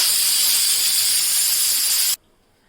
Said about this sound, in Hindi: यहाँ कुकर में आलू उबल रहे हैं।